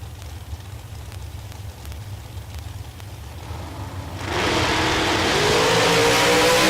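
Dragsters at a Texas Motorplex bracket drag race: a low idling rumble that abruptly bursts into a loud, roaring launch about two-thirds through, sustained and close.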